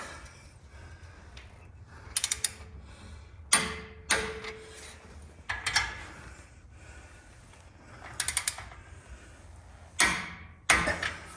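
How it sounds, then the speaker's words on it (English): A torque wrench set to 50 foot-pounds tightens bolts during a high-steer knuckle install with a heavy-duty tie rod and drag link: a scatter of sharp, close metallic clicks and ratchet ticks in bursts over quiet shop background. "grab our torque wrench here, set it to 50 foot-pounds of torque. Tighten them up."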